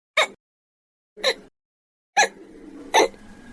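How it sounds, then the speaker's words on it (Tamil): Four sharp hiccups spaced about a second apart, close and distinct. The last two come over a faint, steady background hum. "என்ன இப்படி விக்கல் எடுக்குது?"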